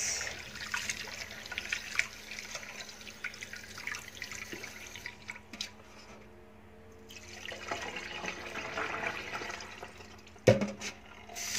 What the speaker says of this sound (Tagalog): Hugasan nyo ang inyong rice.